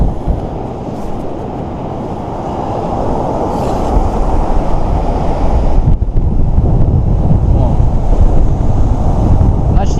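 Steady roar of surf and gusting wind buffeting the microphone on an autumn Baltic shoreline as the tide comes in, growing slightly heavier as it continues, with no voices.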